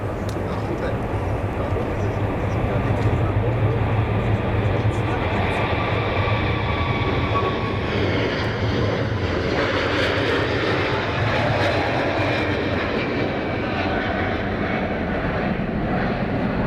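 Boeing 777-300 jet engines spooling up at Zurich Airport, a loud continuous roar with a rising whine that swells midway, heard from the spotting area with people talking over it and a dog barking.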